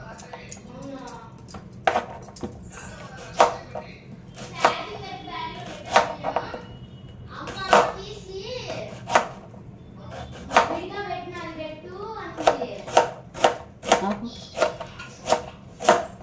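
A knife slices onions thinly on a cutting board for an Andhra-style ridge gourd stir-fry, making a steady series of crisp, close chops that quicken toward the end. Someone talks between the cuts.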